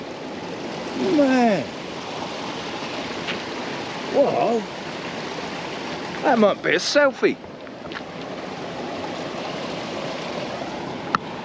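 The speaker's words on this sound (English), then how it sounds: "That water just bustling. That is alpine fresh water." An alpine freshwater stream in the Austrian Alps, bustling and flowing as a steady broadband rush that runs throughout, with someone talking over it in short bursts.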